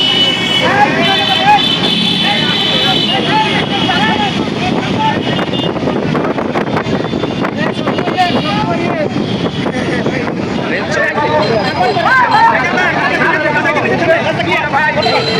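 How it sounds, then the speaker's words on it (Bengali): A Barisal motorcycle rally of thousands of party workers rumbles past in a loud, continuous roar of engines and horn blasts, buffeted by wind noise, with crowd voices and shouting mixed throughout. "তিনি আজকের এই মোটরসাইকেল শোডাউনটি পরিচালনা করছেন"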